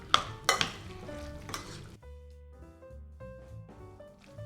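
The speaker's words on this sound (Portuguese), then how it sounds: "Comecei misturando com a colher e agora vou continuar misturando com as mãos" A spoon mixes finely chopped tomato, onion and raw ground meat for esfiha filling. Wet, squelchy scraping strokes come close and fairly loud at first, then give way to softer, sparser stirring.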